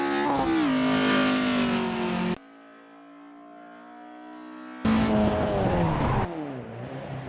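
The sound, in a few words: Opel Kadett race car slipping on wet track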